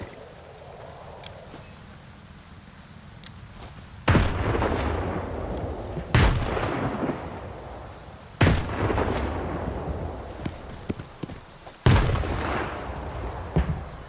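Grenades go off in the video game Stalker 2 while fighting rats: four heavy, booming blasts spaced a few seconds apart, each followed by a decaying rumble over quieter background noise.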